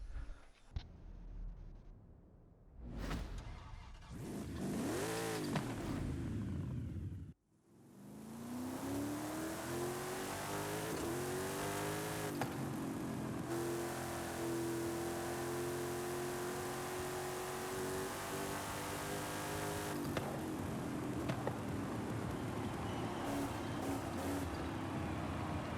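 Mercury Cyclone Spoiler muscle car on a drag tune in Forza Horizon 5, engine revving hard and climbing through gears with loud, sustained roar and brief shift gaps, close and continuous with no talking.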